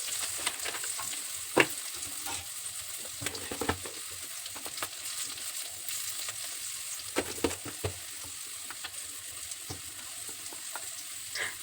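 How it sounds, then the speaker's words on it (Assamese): Onion, ginger and garlic fry with turmeric, coriander, cumin and Kashmiri chili powders in a pan, a continuous close sizzle broken by irregular scraping and stirring clicks, with no talking. "তাৰপৰা পিঁয়াজ আৰু আদা নহৰু অলপ দি ধুনীয়াকৈ ভাজি লৈছোঁ"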